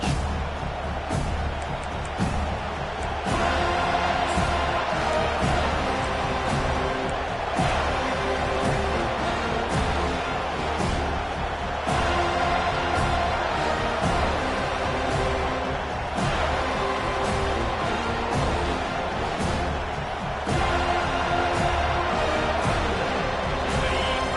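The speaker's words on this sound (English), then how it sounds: "This crowd bringing an ear-splitting welcome to their visitors." Stadium crowd roars steadily and loudly throughout a Florida State college football game in the College Football 25 video game, a dense, continuous wall of cheering with slight surges.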